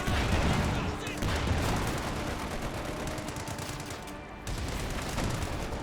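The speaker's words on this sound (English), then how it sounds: "I hear a Pack 4 shot there" A Pak 40 anti-tank gun fires in Company of Heroes 2 amid a dense, continuous battle din of gunfire and blasts. The single shot cannot be picked out of the mix.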